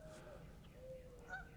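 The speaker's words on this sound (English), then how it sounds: "stop and listen to a flock of Canada geese when they're flying over" Faint, distant honks from a flock of Canada geese flying overhead sound a few times over a low outdoor rumble, brief nasal calls drifting from far off.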